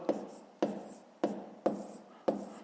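Pen or marker writing on a board during a fifth-grade math lesson, five short scratchy strokes at a steady rhythm, each starting sharply and fading, close and fairly quiet with no talk.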